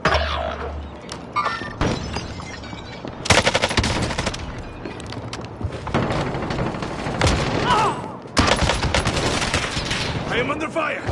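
Heavy automatic gunfire and sharp bursts in a Warzone quads battle royale match, loud and close, with repeated volleys, impact cracks and booms running almost continuously, game voice callouts mixed underneath.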